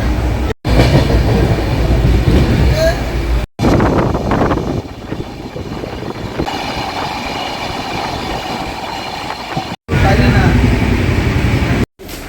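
Interior of a moving passenger train running from Siliguri, with a steady loud rumble of wheels and carriage, rhythmic rail clatter and wind buffeting, broken by a few abrupt cuts to silence.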